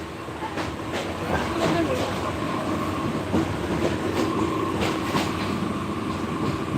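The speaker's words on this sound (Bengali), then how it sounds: "আপনারা দেখছেন এই যে ট্রেনটি জেলা স্কুল মোড় পার হয়ে যাচ্ছে" Bijoy Express train rolls past the Zilla School crossing in Mymensingh town with a continuous rumble and rhythmic clickety-clack of wheels over rail joints, loud and close for several seconds.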